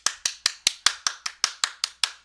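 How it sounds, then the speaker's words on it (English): Sharp, evenly spaced claps, about ten in a row, loud and close, with a steady rhythm and no talk, from people clapping for a colleague during an online design feedback session. "Everybody clap it up for Henry."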